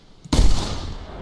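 A single sharp, loud shotgun blast goes off in the hunting video game theHunter 2015, then a long rumbling echo trails away.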